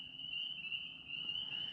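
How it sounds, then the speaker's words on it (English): Spring peeper tree frogs calling in the woods: a steady, shrill, high-pitched chorus that continues unbroken at moderate volume with no voices. "in the fucking woods by the spring peepers"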